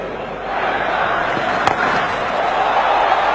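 Stadium crowd roars steadily throughout a Pakistan versus Australia cricket match as Afridi hits another big six, with one sharp bat-on-ball crack standing out mid-cheer.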